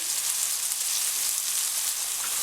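Chicken sizzles steadily in a hot pan with sage and pepper, a dense, even frying hiss with no talking.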